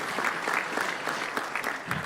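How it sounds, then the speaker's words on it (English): Audience applause at the FlightSimExpo awards, dense steady clapping from a crowd in a hall for about two seconds, without speech over it. "Round of applause."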